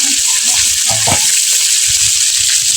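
Eggplant slices fry in hot oil on a home stove, a loud, dense, continuous sizzle close up that stays even throughout, with a few faint low knocks underneath.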